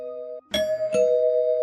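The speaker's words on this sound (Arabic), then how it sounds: "وفجأة بقى جرس الباب بيرن" An electronic doorbell rings with a two-tone ding-dong chime, clear and close, the tones ringing on after a brief pause.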